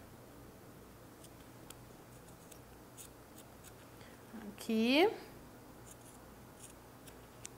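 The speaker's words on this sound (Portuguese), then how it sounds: "E aí a gente corta aqui pra que fique do tamanho do zíper" Scissors cut fabric to the length of a zipper, a brief crisp snip-snip burst near the middle while someone speaks quietly in a room.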